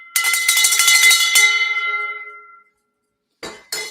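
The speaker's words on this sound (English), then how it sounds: "definitely deserves a bell ring." A handbell rings several times in quick succession, loud and bright, then its metallic ring fades out, followed by a couple of short bursts of clapping or cheering.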